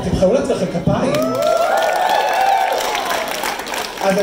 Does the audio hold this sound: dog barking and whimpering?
no